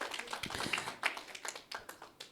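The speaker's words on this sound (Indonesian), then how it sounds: "Tepuk tangan bagi Tuhan kita." A church congregation claps for God during a sermon, a scattered spread of hand claps with uneven rhythm, moderately quiet and some distance away, with faint murmur beneath.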